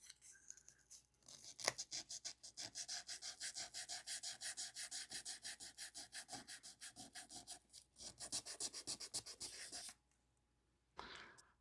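Sanding a small filed-down patch by hand produces steady, rapid back-and-forth scratchy strokes, close and fairly faint, running for about ten seconds before a brief pause and a final few strokes.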